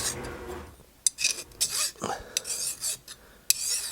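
A hand file scrapes a burr off a steel shooting target in a series of close, uneven rasping strokes with brief pauses and sharp metallic scrapes between them.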